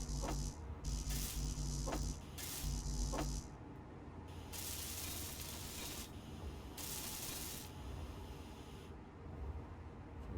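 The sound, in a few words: welding in the video game Space Engineers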